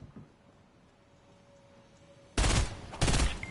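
Two sharp bursts of video game gunfire crack out close and loud near the end, following a few seconds of quiet room tone.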